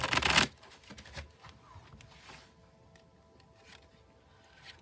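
A tarot oracle deck is shuffled with a loud riffling burst at the start, followed by softer card slides, taps and handling sounds as angel cards are drawn.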